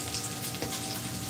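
Cubes of brisket fry in a pan with a steady, close sizzle and crackle, continuous and even throughout.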